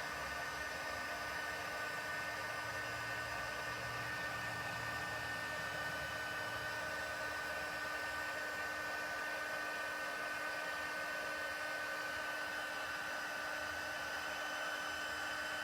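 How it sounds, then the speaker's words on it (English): Heat gun warming embossing powder for a craft project, a steady, close blowing whoosh with a constant motor hum running unbroken throughout. "it's called a heat gun, and it heats up the emboss powder and gives it some dimension and some shiny"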